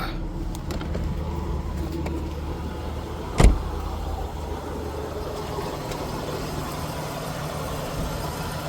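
Australian Ford car driving through a tunnel with a mechanical fault, a steady droning engine and road rumble echoing at moderate volume, broken by one brief sharp knock or bang partway through, without speech.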